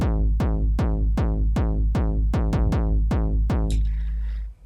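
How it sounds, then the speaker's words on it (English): Roland TR-909 drum machine kick drum playing a hard techno pattern alone, punchy booming thumps with a few quick double and triple hits breaking the steady rhythm, ending with a brief noisy tail. "I'm using the TR-909 drum machine from Roland themselves to get that proper"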